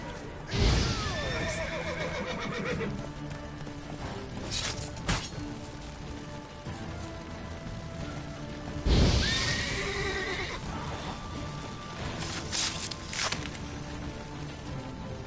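A horse in the Witcher 3 video game neighs loudly twice, with clip-clopping hooves and other game sounds between the calls, over a steady background bed.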